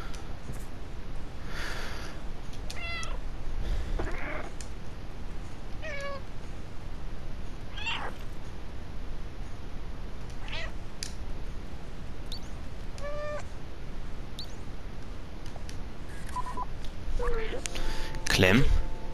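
Meows from the cat in the video game Stray, several short calls scattered through the scene over game ambience, with a voice talking at points.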